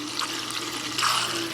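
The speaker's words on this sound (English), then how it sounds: "Okay, we have now switched the water out." Water being swapped out of a cup during the break-in of a brushed RC motor, a steady close rushing and splashing pour that grows a bit stronger toward the end.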